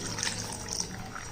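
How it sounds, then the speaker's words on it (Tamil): Water poured little by little into a jaggery and flour mix during kneading, a steady close trickle and splash running alone throughout. "தண்ணி ஊற்றி பிசைஞ்சுக்குருவோம். கொஞ்சம் கொஞ்சமாக ஊற்றி பிசைஞ்சுக்கிறோம்."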